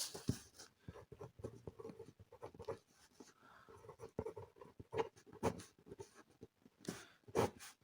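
Pen writing on paper while a maths problem is worked out, faint scratchy strokes in short irregular bursts with pauses between them, close and quiet, no talk.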